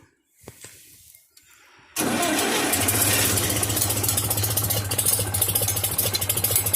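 A Farmall C263 IH 706 tractor engine starts cold after a quiet pause, then settles into a loud, steady, unusually low idle with a deep rhythmic throb.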